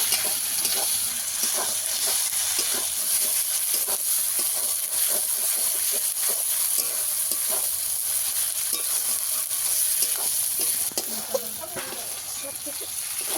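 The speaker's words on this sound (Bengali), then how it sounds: "টমেটো কুচানো দিয়ে দেব এবার সব কিছু একসঙ্গে ভালো করে একটু কষিয়ে নেব" Chopped tomato sautés with the ingredients for a potato chicken curry, making a constant sizzle and hiss broken by repeated spatula scrapes and taps, with speech running over it.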